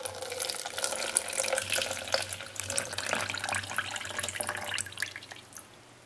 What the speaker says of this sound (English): Now we put all the waters inside.